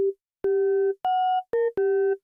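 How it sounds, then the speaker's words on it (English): Short, pure sine-like tones from a Yamaha Reface DX FM synthesizer play as five clean notes at a few pitches with faint overtones, each sharply started and stopped, sounding alone and clear. "So we've gone from this sine wave"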